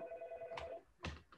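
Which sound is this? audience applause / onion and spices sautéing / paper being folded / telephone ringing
telephone ringing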